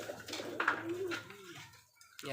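A jet black tiger male Rajshahi Giribaz pigeon coos close by in a single rising-and-falling call that fades toward the end, with faint chatter in the background.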